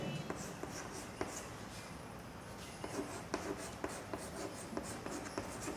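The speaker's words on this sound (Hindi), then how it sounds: "एक पॉइंट अगला लिखते हैं" Pen or chalk strokes from a teacher writing the next point in a calendar reasoning lesson: faint, scratchy marks in an irregular rhythm, heard alone without speech.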